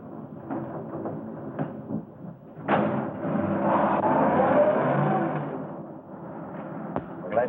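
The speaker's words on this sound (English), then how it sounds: "Start the car, Johnny." A car in a 1936 crime mystery starts up and pulls away close by, its engine swelling to a steady rumble for a few seconds before fading back, with clicks and door-like knocks around it and no voices.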